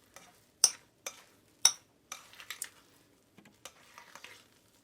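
Spoon stirring khoya mixture in a bowl after microwaving, a few sharp clinks and scrapes with quiet gaps between them, fairly close and faint, no talking.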